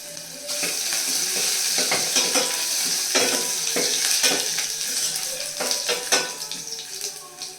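Garlic frying and sizzling in a hot pan in a home kitchen, a steady crackling hiss with repeated scraping stirs throughout, no voices.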